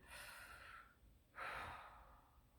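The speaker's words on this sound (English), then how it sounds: "I'm going to take a belly breath. It's kind of like blowing out a birthday candle." A deep belly breath is blown out as if extinguishing a birthday candle, during a kindergarten lesson: two soft, airy exhales heard close and quiet, the second stronger, with no speech.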